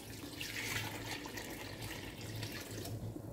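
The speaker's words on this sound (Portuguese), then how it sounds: "Agora eu vou colocar a água até cobrir pra enxaguar ela" Water is poured into a portable mini washing machine to rinse clothes, a steady close splashing stream filling the tub.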